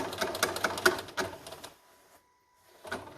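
A sewing machine stitches a concealed carry belly band in a rapid mechanical run, falls silent for a moment, then starts up again.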